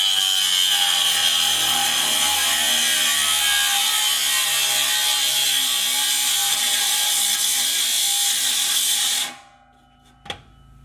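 A 20-volt cordless cutoff wheel cuts through the exhaust pipe of a 6.0 Powerstroke diesel truck with a loud, steady, high grinding whine for about nine seconds, then spins down, followed by a single short knock.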